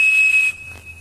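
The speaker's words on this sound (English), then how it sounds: "This guy, right here, the Captain Crunch whistle." A Captain Crunch cereal-box toy whistle gives one loud, piercing, steady tone for about half a second, then cuts off, leaving a quiet background.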